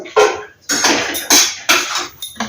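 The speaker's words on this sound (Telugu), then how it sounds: "స్టవ్ ఆపేసి డిష్ అవుట్ చేసేసుకోవడం కూర డిష్ అవుట్ చేసేసుకుంటాను" Tomato curry being served out of a steel cooking pan, with a metal spoon scraping and clanking against the pan in several sharp, close strokes at an irregular rhythm, heard alone with no talk.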